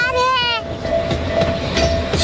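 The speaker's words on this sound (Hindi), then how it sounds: "मजेदार बात है ना, मिनी ट्रेन भी चलती है इस पार्क में" A cartoon mini train runs through a park, with a whistle-like tone at the start and then a continuous rolling rumble under a steady tone, close and fairly loud.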